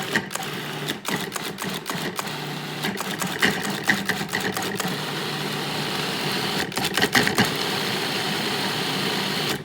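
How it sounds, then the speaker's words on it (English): Food processor with its lid locked on, pulsing herbs for pesto in repeated short bursts of whirring motor noise separated by brief pauses, steady and close with no talking. "I'm gonna lock on the lid and I'm gonna pulse a few times just to get the herbs chopped up."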